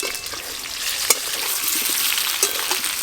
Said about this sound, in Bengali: আলুগুলো একবার নেড়ে দিই।